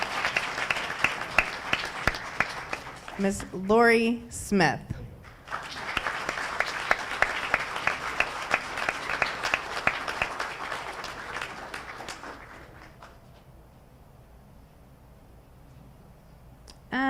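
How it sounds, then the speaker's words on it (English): Applause from the audience at a school board meeting swells into a long round of steady clapping, with brief speech and a short tonal sound near the start, then fades to quiet room tone before a final burst. "let's give him a round of applause"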